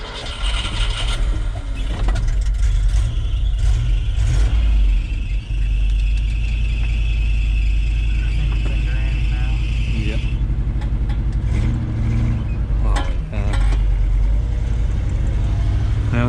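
A 1973 Ford F-250 truck on military tires driving through snow, its engine rumbling loud and close with mechanical clunks and shifts, while people talk over it.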